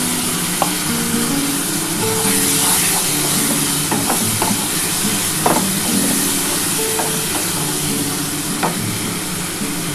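Ginger-garlic spice paste hits a hot oiled pan and sizzles loudly and steadily, an even close frying hiss with light stirring scrapes throughout.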